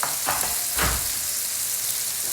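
Steak searing in a hot pan, a steady broadband sizzle with brief louder bursts of spatter, close and continuous with no talking.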